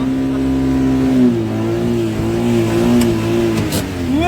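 A car with a weak battery, started by a valet in a parking area, catches and runs, its engine revving up and down in several swells, loud and close, with no talk over it.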